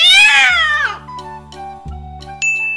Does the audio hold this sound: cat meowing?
yes